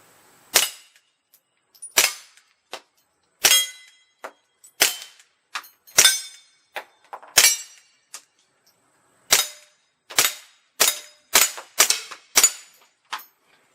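Subsonic 22LR rifle rounds striking steel targets at an outdoor range, a long irregular string of sharp cracks with metallic pings, some in quick bursts, each decaying fast into quiet.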